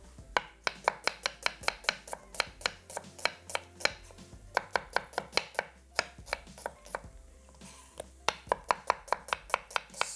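Knife slicing a medium onion on a cutting board, a steady run of sharp, close chopping taps at a quick even rhythm with a few brief pauses, no talking.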